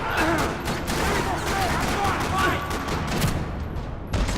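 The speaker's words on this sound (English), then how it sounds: "Another parking lot rattling with gunfire." Gunfire rattles in the video game Max Payne, a dense run of rapid shots and bursts in a parking lot, loud and continuous with a voice heard amid the shooting.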